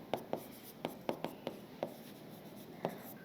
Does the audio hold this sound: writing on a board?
yes